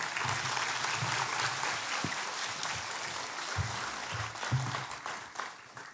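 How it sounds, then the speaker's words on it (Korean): A church congregation at a Sunday worship service in Daegu applauds to welcome the senior pastor, with sustained, fairly soft clapping from many people and a few low thumps underneath. "나오실 때 큰 박수로 맞이해 주시기 바랍니다"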